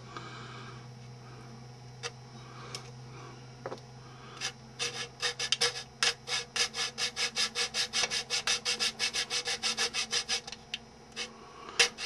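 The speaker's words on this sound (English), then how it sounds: "Do a little sand in there." Belt sander smoothing a wooden workpiece on a workbench, a run of rapid rhythmic rasping strokes close up, preceded by a few isolated scrapes and a low steady motor hum.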